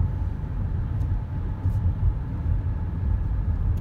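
Steady road traffic of many cars rolls by in a continuous low rumble, with a constant hum throughout and no voices.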